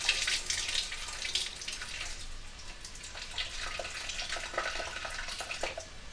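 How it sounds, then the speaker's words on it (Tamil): Water pours and splashes steadily as soaked rice is drained in a kitchen, a close, continuous hissing trickle with slight surges, and no talking. "தண்ணியை வடிகட்டிட்டு"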